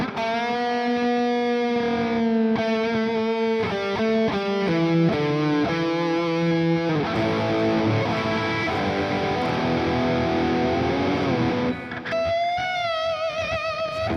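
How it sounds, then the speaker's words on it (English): Heavily distorted electric guitar playing a metal solo through the Overloud TH-U amp simulator with overdrive and cab, sustained wailing lead notes over a dense, continuous wall of sound, loud and close with no talking. "This is a metal solo."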